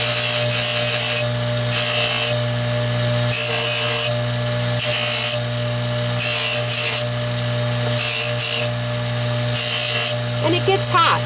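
Bench buffer polishing soldered silverware jewelry: a steady motor hum runs throughout while bursts of higher whirring come and go as the piece is pressed against the wheel, close and fairly loud.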